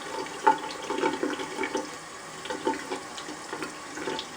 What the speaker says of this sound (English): let's just put a little bit of water on the top of it